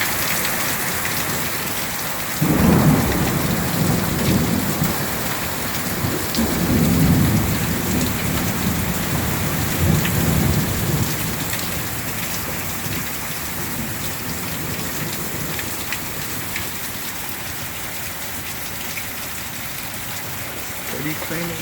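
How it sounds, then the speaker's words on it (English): Heavy summer thunderstorm rain in Central Florida pours steadily onto the street and surfaces, with low rumbling thunder swelling in the first half before easing, and the downpour hissing on throughout. "Raining all over."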